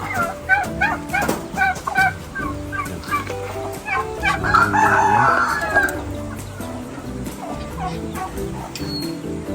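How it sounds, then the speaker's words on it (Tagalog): Free-range backyard chickens cluck and chatter close by in a mixed flock, while a rooster lets out a loud crow in the middle, rising above the ongoing clucking. "Halo-halo yung mga manok."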